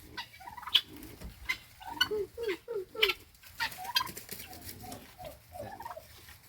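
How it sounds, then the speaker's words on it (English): Female turkeys inside a coop gobbling and clucking in a burst of overlapping calls, fairly close, with some softer bird chatter between the louder calls. "Oh, it's the turkeys inside, the females."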